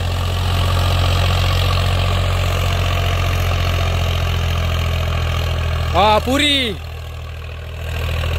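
A Sonalika DI 745 tractor, a 2024 model, runs at a steady idle with a deep constant drone. The tractor is struggling and not responding to the load. Someone speaks briefly near the end.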